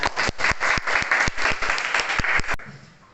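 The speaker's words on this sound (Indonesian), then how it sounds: "Tepuk tangan dulu semuanya." A short burst of clapping from a small group, uneven and lively, fading out abruptly after a few seconds.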